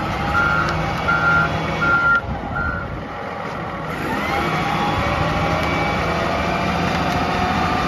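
A toy forklift sounds its reversing beeper in a steady series of evenly spaced electronic beeps, then falls silent, over a continuous low background hum.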